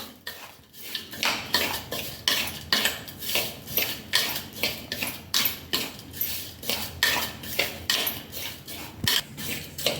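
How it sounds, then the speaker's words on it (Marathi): A spoon works wheat flour, powdered sugar and other karanji dough ingredients together in a bowl, making a steady rhythm of scraping, clinking strokes about twice a second. The sound is close and clear, and no one speaks. "सर्व जिन्नस मिक्स करून घेऊया"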